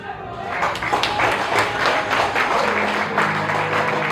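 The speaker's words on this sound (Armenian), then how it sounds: "հյուրընկալ օջախում գտնվող բոլոր տղամարդիկ էլ քույրերին բարձր ծափեր են նվիրում" Men gathered in a home give loud applause to visiting sisters, a dense run of hand claps from a small group with some crowd murmur underneath.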